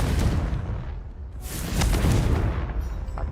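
Confringo blasting spell in the Hogwarts Legacy video game, two heavy booming explosive blasts with rumbling low tails, loud and close, the second burst stronger and followed by a fading crackle.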